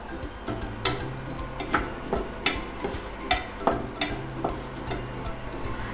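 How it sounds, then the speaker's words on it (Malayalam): Chopped cashew nuts are stirred in a pan, producing a steady run of light ticking and scraping clicks as a spoon moves them, rhythmic and close, over a low background hum. "അതുവരെ ഒന്നിങ്ങനെ ഇളക്കി കൊടുക്കാം."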